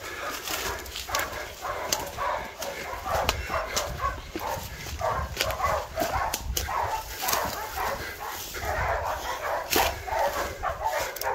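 Hunting dogs barking during a New Zealand wild boar hunt, a continuous chorus of overlapping barks, yips and whimpers at moderate distance, with steady rustling underneath and a bird faintly audible.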